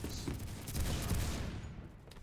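Rapid gunfire from a secondary weapon in the online shooter Phantom Forces, a dense continuous burst of shots that tails off near the end.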